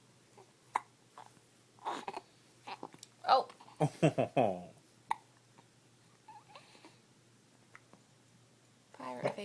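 A kitten hiccups in short soft jerks, a few spaced clicks and little bursts close by, while a person talks quietly over and between them.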